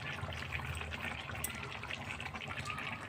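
Hot water poured into a chicken and potato curry, a steady close splashing stream of liquid running continuously without pause.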